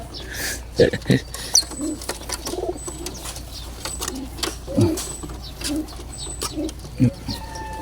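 Racing pigeons coo in a few soft bursts, with occasional chirps over a steady outdoor background hum, in Jaen, Nueva Ecija.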